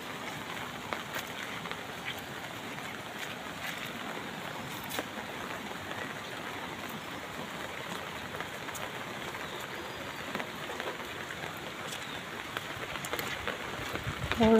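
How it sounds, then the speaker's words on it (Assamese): Rain falls by a river in a steady, even wash of patter with scattered close drops hitting a surface, keeping a constant level throughout and without talk. "বৰষুণ চাওকচোন"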